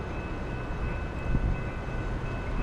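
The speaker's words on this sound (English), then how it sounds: "another outbound Metra train" A Metra commuter train runs outbound past the trackside during a snowstorm, giving a steady, continuous rumble and rail noise with a faint tonal hum and no voices.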